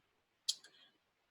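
A single computer mouse click while browsing a website, sharp and close, with a faint second tick just after, then quiet.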